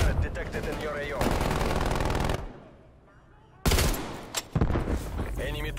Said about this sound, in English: Enemy sentry turret detected in your AO.